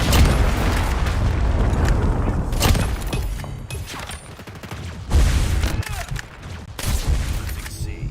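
Dense, continuous game combat from a first-person shooter: a heavy boom and rumbling blasts from a Predator missile strike mixed with bursts of gunfire, loud and chaotic throughout, with brief radio-style voice callouts underneath.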